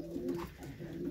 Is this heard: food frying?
no